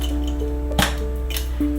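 A pressure cooker lid being shut over Parsi dhansak in a home kitchen gives a sharp metallic clank, with a second lighter clink a moment later, over a steady low hum.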